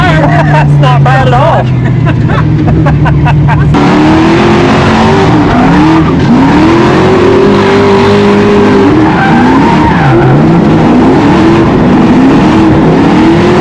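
A Ford Mustang drifting at 5 Flags Speedway, loud continuous tire squeal and skidding over a roaring, revving engine whose pitch rises and falls through the slide, close and sustained.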